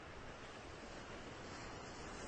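Sea waves wash in a steady, faint broadband rush, blended with soft wind noise and no voices.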